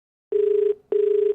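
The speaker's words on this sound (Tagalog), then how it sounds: "Yan, nagre-ring lang yung telepono." A telephone rings with a steady electronic tone in two bursts separated by a short gap, clear and close, with no talking over it.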